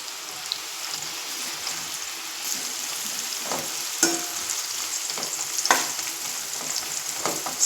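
Potato finger chips fry in hot oil on high heat with a continuous, close, crackling sizzle. Scattered sharper pops and spatters rise above it throughout, with no voices.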